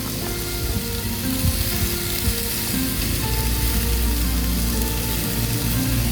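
Fajita meat sizzles loudly and steadily on a hot griddle outdoors at the Grand Canyon, a dense continuous frying hiss with faint scraping underneath.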